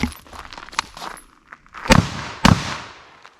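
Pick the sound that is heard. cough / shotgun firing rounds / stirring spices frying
shotgun firing rounds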